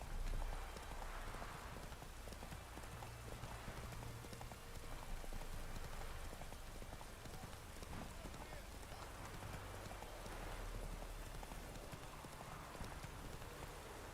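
Roach, the horse in The Witcher 3, galloping, with rapid rhythmic hoofbeats running continuously over a soft rain-like wash of ambience. The sound is moderately loud and close.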